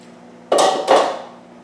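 Two quick metallic clanks ring out as a utensil stirs turkey chili in a cooking pot, the second knock trailing off with a short resonance.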